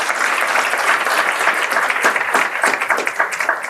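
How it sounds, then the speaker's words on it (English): A crowd at a school board of education meeting gives a round of applause for a coach, with loud, dense, continuous clapping from many people that fills the room throughout, with no voices heard over it. "Let's give him another round of applause."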